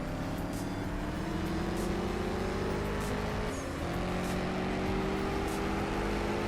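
A nitrous-boosted drag race car in the mobile racing game CSR2 roars at full throttle, its engine pitch climbing steadily with a gear shift about midway, loud, close and continuous with no talk.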